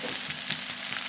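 Sweet potato with sugar fries in a pan, a brief, steady crackling sizzle with no voices.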